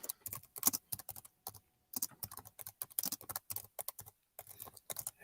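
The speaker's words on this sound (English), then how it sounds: "Everyone can hear my typing." Close-up typing on a computer keyboard, quick bursts of clicky keystrokes separated by short pauses, with no talking.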